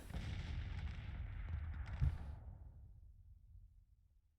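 Artillery fires in the video game Grand Tactician: one deep, rumbling boom builds, with a brief sharper crack near the middle, then fades into a long rolling decay.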